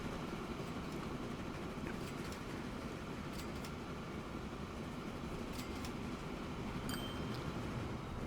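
A passenger train slowing through a station in Transport Fever 2 gives a steady, broad rumbling roar that holds for the whole stretch, with faint clicks over it and no voices.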